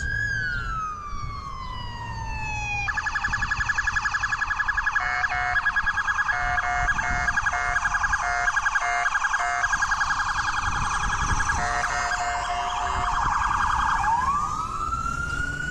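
Police car siren wailing loud and close, a steady electronic yelp-and-wail pattern that rises in, holds with rapid warbling pulses, then sweeps down as the vehicle passes over low traffic rumble.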